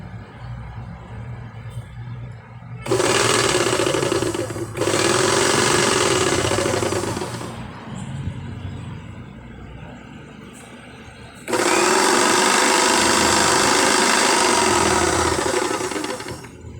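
A paper shredder motor whirs loudly in two long bursts, with a low hum in the quieter gap between them.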